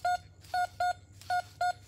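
Metal detector target tone during a Florida hunt, five short identical electronic beeps at an even rhythm, clear and close with no talking.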